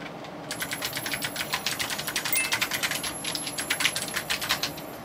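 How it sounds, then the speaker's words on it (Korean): Rapid keyboard typing captured close-up, with dense clicky keystrokes in an uneven run for about five seconds and no talk. "들어봐요. ASMR 키보드 들어갑니다."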